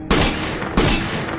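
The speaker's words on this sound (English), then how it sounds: "Who's shooting?" Two loud, close gunshots about two-thirds of a second apart, each a sharp crack with a booming tail, in a tense dramatic scene.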